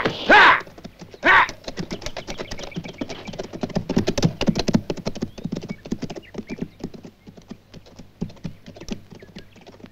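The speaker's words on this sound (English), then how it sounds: "Get the horses moving" Horses on a western ranch clip-clop in a quick, irregular patter of hooves after two loud shouts, and one horse whinnies. The hoofbeats are close and strongest in the middle, then thin out toward the end.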